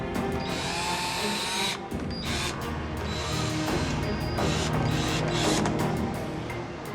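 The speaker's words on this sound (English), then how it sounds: "Officers are in the process of drilling the base of his suitcase to check for concealments." A power drill bores into the base of a suitcase at an airport border security inspection, whining loudly and continuously close by, with short dips and restarts as the bit bites and briefly eases.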